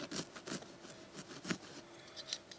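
Blade cutting through foam for a customizable AR15 rifle case, a series of soft repeated scraping strokes at an irregular rhythm, close and quiet with no speech.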